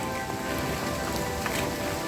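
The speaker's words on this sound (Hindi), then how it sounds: "बहुत ज़्यादा ही बारिश हो रही है" Heavy rain pours at the Pandavleni caves in Nashik, a dense, even hiss of drops on surfaces that holds steady and fairly loud throughout, with no voices.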